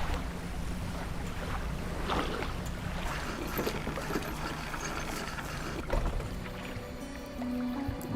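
A fishing boat fitted with an arterial engine cruises across open water in the game Dredge, giving a steady, washing hum of engine and waves with wind rushing throughout.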